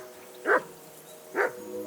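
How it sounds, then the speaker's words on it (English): A dog in Kingdom Come: Deliverance II barks twice, about a second apart, with each short bark loud and close over a faint steady background hum. "Jesus, Henry, that barking's driving me nuts."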